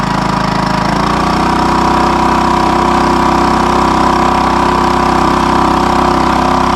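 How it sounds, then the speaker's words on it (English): A Honda 2.3 HP gas outboard motor on a small boat runs loud and close, its pitch stepping up after about a second to a steady, buzzing half-throttle drone that holds evenly to the end. "Go about half throttle."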